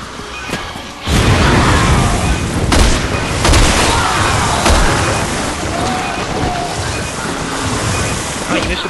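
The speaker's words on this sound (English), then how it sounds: "My grenade!" A grenade blast in the zombie shooter Resident Evil 6, a loud sudden boom followed by a sustained roaring rumble of battle noise with further thuds, under game sound and some speech.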